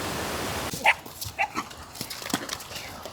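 Several short yips and barks from dogs chasing horses at a moderate distance in the Andes, scattered irregularly over a steady outdoor background hiss.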